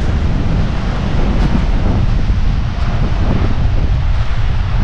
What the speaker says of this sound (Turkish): Akdeniz'in dalgalarını göstereceğim şimdi size.